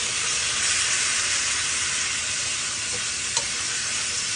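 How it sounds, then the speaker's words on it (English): Ground beef frying in a pan as ice cubes melt into it, giving a loud, steady sizzle and hiss of steam with a faint clink near the end and no talking. "I'm going to add a couple ice cubes to that back there, and that's just going to steam my meat as I go."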